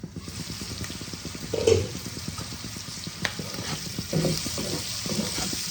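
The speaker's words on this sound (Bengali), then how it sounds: "ঢাকা দিয়ে দিলাম, আঁচ কমিয়ে কমিয়ে আমি ভাজবো।" Capsicum frying on low heat in a covered pan gives a steady soft sizzle with faint scraping and light knocks, close and continuous with no voices.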